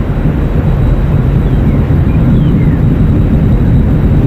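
An Atlas V rocket in boost phase after launch from SLC-41 at Cape Canaveral gives a loud, continuous, broadband roar that stays steady throughout, with no speech.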